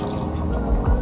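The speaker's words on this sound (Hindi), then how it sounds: "अब पानी डालना है इसमें" Water splashes and gurgles steadily into a cooking pot of chicken biryani, with low sloshing thumps toward the end of the short pour.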